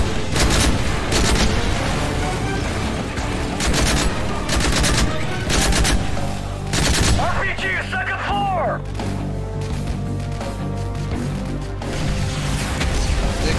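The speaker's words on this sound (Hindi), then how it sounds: "हैवी गन है यार" Heavy gunfire rattles through a Call of Duty: Modern Warfare 3 battle in dense, loud bursts with booming impacts and crashes, over a constant combat din with a voice speaking.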